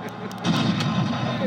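A 1/6 scale all-metal Ferdinand Elefant RC tank destroyer fires its gun once, a sharp report followed by a sustained rumbling blast, with people nearby in the background.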